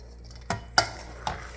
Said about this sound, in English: I want to make sure that I get this stirred really well.